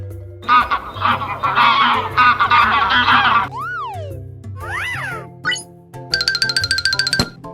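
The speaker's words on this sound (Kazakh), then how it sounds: "қаз," A goose honks loudly in a dense, continuous run of calls lasting a few seconds, followed by bright whooping, chiming and jingling sound effects.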